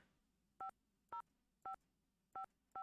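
Five evenly spaced touch-tone beeps of a phone number being keyed in the Nancy Drew game Secret of the Scarlet Hand, each short and clear with a hush of quiet between them.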